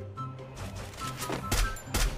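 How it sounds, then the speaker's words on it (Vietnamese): Two sharp gunshot bursts ring out near the end, in the shooter game Free Fire, after a quieter stretch of low game background noise. "Một tình huống bắn lỗi liên tục đến từ cả hai khẩu súng"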